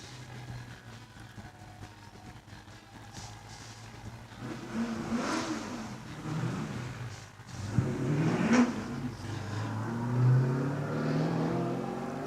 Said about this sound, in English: Lindsay Bear's Holden Commodore has just left the start line